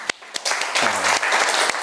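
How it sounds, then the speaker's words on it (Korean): A church congregation breaks into brief applause of encouragement: a few isolated claps first, then a short burst of dense clapping with a voice briefly audible within it. "다시 한번 격려의 박수"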